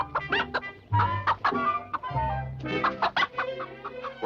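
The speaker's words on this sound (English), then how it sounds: "Rufus, the terrible-tempered rooster." Chickens clucking close by, including a rooster, a busy run of short, throaty calls and squawks that overlap and carry on without a break.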